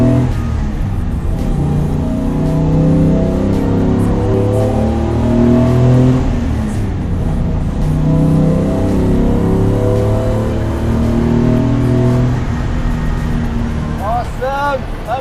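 A race car engine revs hard and climbs through the gears, then the driver downshifts with heel and toe into a corner. Close, loud, continuous engine roar with someone talking over it.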